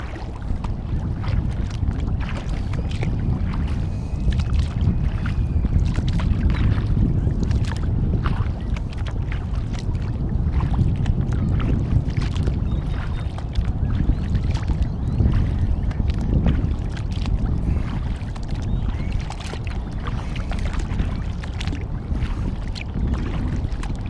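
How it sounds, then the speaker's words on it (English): A Horizon Hydra 14 sea sit-inside kayak is paddled on open water, with continuous sloshing and splashing under heavy wind buffeting against the microphone. "Paddling on the left side."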